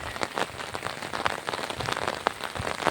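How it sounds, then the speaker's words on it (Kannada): Heavy monsoon rain in the lush hill country of Malenadu pours steadily onto surfaces, a dense, continuous hiss with scattered sharper drop impacts, fairly close and unbroken by any talk. "ನೋಡ್ರಿ ಯಾವ ಥರ ಇದೆ ಮಳೆ."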